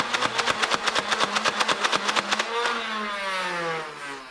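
A Nerf Ultra Focus blaster fires a rapid, evenly spaced burst of roughly eighteen sharp dart shots up close, then its motor whine winds down and fades.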